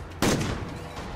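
A single sharp gunshot from the video game Warzone, a sudden loud close crack followed by a short decaying tail.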